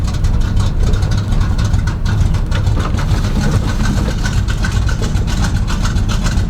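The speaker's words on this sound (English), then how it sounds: "See how it idles at the stop sign after driving." A car engine fitted with an oversized camshaft idles at a stop sign after a drive, giving a loud, steady low rumble with an uneven, lumpy pulse heard close up.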